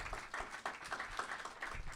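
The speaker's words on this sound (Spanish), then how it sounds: "Señor, recibe este aplauso" Applause from a church congregation at a Spanish-language morning worship service, a steady wash of many hands clapping at moderate level throughout, with no voices standing out.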